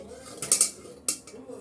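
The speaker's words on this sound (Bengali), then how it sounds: "এখন আমি এটা উঠিয়ে নেব চুলা থেকে" A pan of filled chicken buns is lifted off a stovetop, giving two quick bright metallic clanks followed by a third clatter, close and fairly loud against a quiet room.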